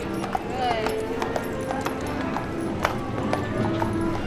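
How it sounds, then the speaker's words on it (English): A horse pulls a trolley down Main Street at Disneyland, its hooves clip-clopping in a steady rhythm close by, beneath a crowd and people talking. "the horse and trolley going down Main Street"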